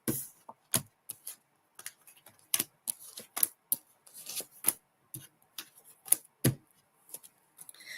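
Tarot cards are shuffled in a steady run of crisp clicks and soft riffling bursts, close and uneven in rhythm, with no talking.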